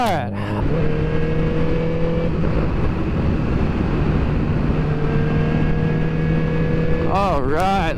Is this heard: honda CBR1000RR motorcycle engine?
yes